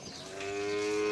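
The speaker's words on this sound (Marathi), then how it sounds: "म्हैस एक आहे ना" A long, steady buffalo low with a rich tonal drone that swells slightly louder toward the end, heard close and alone.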